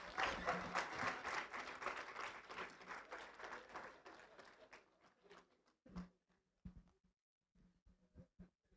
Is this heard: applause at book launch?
yes